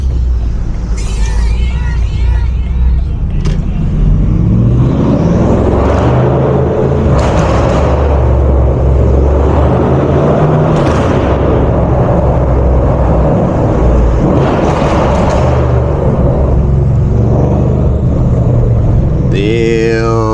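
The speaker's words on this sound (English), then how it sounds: "do y'all hear the turbos, bro?" Turbocharged BMW M550 tuned past 600 hp accelerating through downtown streets, a loud continuous engine and turbo roar heard from inside the car under excited voices talking.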